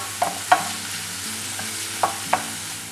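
Onions sauté in a pan for a Kerala-style prawn roast, with a soft steady sizzle and a few sharp clicks of a spoon stirring against the pan.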